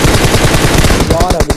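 Loud automatic gunfire in the mobile battle royale game PUBG Mobile: a fast, dense burst of shots close up, with voices faintly underneath.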